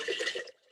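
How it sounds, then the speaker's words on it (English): Vinegar poured into a container, a short close splashing trickle of liquid for about half a second that then stops, with near silence after. "Add vinegar to container."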